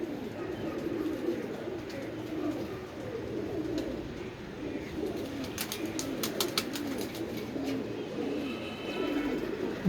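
An old pigeon coos continuously in low, soft rolling calls nearby, with faint clicks and rustles in the background and no talking.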